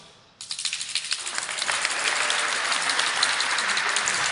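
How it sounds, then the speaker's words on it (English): A retirement roast audience breaks into applause after a brief quiet moment. The clapping starts sharply and swells into a full, sustained ovation in a hall. "you missed the applause"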